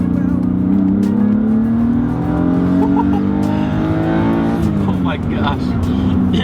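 BMW M3 fitted with an M50 intake manifold accelerating hard, engine note climbing steadily in pitch through the revs with a shift near the end, loud and close, with a person talking over it.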